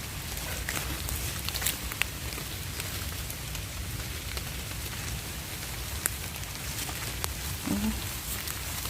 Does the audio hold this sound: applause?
no